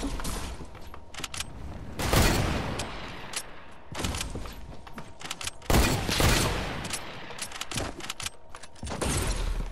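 Pump shotgun blasts in Fortnite, several loud booming shots spaced a few seconds apart amid steady game noise, with other gunfire mixed in.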